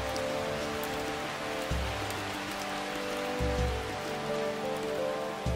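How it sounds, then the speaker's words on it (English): Rain pattering steadily on leaves in a tropical forest habitat of tarsiers, a dense continuous hiss of drops with a few louder low thumps of heavier drips, no voices. "Their sensitive hearing amplifies the sound of rain on leaves"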